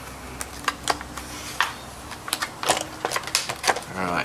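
A knife slicing open the plastic packaging of a tactical survival kit, heard as a run of sharp crackling snaps and ticks close by, with short bursts of rustling in between.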